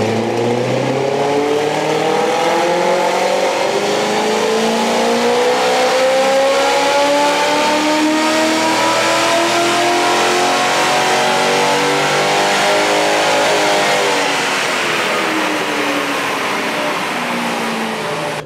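A 1UZ-FE V8 swapped into a Toyota 86 roars through a wide open throttle ramp run on a dyno, its harmonics rising steadily in pitch as revs climb, loud and continuous with no talking.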